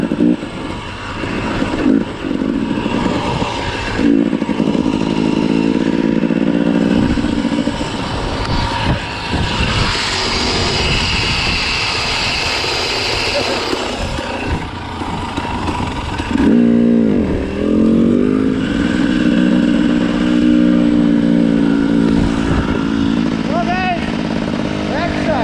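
A Yamaha YZ dirt bike with a large hole in its clutch cover is ridden on trail, its engine droning and rising and falling with throttle changes, loud and close throughout.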